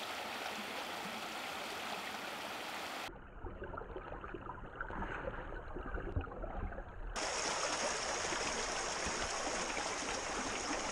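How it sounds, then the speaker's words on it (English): Small watercourses run down a mountain hillside, a steady, close rushing and gurgling of flowing water that fills the whole stretch with no voices. "the mountain will start clearing all the accumulated water through small water courses running down the hill"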